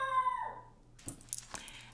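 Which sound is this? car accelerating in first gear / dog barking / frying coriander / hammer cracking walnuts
dog barking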